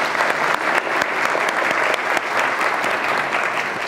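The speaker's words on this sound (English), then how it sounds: "I'd like to give you a round of applause from our students and the Academy." Audience applause at a youth academy keynote event, a steady dense wash of many hands clapping that stays loud and even from start to finish.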